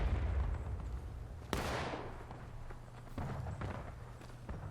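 A single sharp musket-style shot cracks out in War of Rights, a Civil War battle game at Harper's Ferry or Antietam, followed by a fainter distant report over a low, steady battlefield hum.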